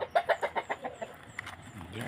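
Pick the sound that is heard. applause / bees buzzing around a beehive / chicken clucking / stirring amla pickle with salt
chicken clucking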